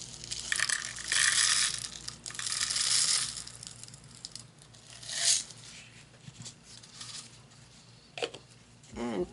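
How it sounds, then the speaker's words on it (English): Crushed lavender glass pours into cups with a gritty, crunching rattle, loud in close bursts that fade into lighter scattered tinkles and clicks, then more scraping pours and a few sharp knocks toward the end. "I'm going to put some lavender glass, crushed glass."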